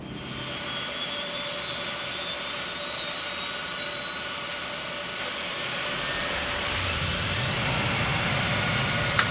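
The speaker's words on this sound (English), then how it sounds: "Let's go ahead and start engine number 1." Engine number 1 of a Boeing 757 spools up during start in the FSX flight simulator, a steady jet whine and roar that grows louder midway and holds at a strong, even level.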